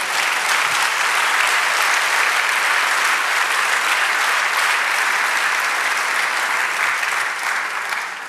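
Steady applause from a large church congregation, many hands clapping together continuously at a loud, even level, fading slightly at the very end.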